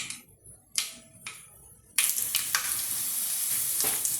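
Two broken dried red chillies drop into hot coconut oil with spluttered mustard seeds for an Onam ulli puli. A few scattered crackles give way to a loud, steady, close sizzle with sharp pops.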